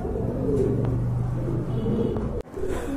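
A pair of full Kaldom pigeons coo softly close by, low throaty calls rising and falling over a steady rumbling background.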